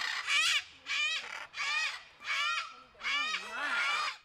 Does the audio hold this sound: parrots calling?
yes